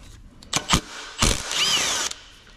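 Power tool with a 6-point deep socket removing a bolt from a Nissan Z31 engine during a motor pull, giving short whirring bursts followed by a longer sustained whine, close and loud.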